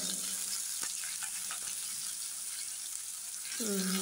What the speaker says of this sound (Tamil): சோம்பு கடுகு தாளிச்சுக்கலாம்